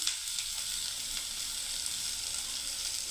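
Beans, raisins and carrot fry in a pan for veg biryani, a steady close sizzle with faint intermittent crackles and no talk.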